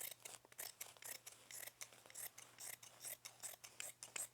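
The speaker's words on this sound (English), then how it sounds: "So what I'm going to do is take my scissors and just free this up" Scissors cut through chenille fabric for a sofa bed slipcover, a quiet, close series of crisp rhythmic snips and rasps repeating every fraction of a second.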